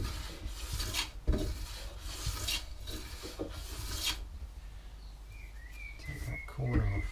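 Hand rubbing and rasping as a wooden corner of a boot rack is rounded off, steady scraping strokes close by, with faint birds chirping in the background near the end.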